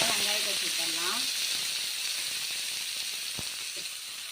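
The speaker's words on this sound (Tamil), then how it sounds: "வெங்காயம் லைட்டாக வதக்கிடலாம்" Onions, cumin, curry leaves and green chili frying in oil for a Tamil squid gravy, a steady close sizzle and hiss with a voice talking briefly at the start.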